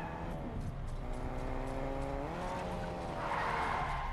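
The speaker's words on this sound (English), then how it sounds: "I hear a car." Engine of a car in the video game Fortnite, a steady droning hum with rising pitch as it accelerates, fairly close and continuous, with a brief tire-skid hiss near the end.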